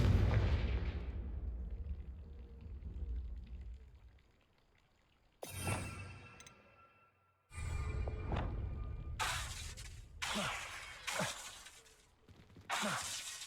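Fiery spell explosions from a Hogwarts video game: a loud blast and crackling shatter fade out, then after a short pause a series of four sharp bursts and whooshing impacts follow in quick succession, close and forceful.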